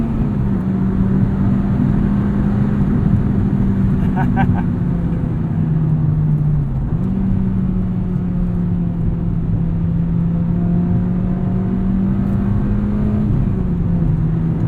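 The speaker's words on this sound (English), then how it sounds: "when VTEC does kick in, it gets a whole different personality. It really pulls." The engine of a 2006 Acura RSX Type-S, a front-wheel-drive compact, drones loudly and steadily from inside the cabin, its pitch holding high with brief dips as gears change before climbing again.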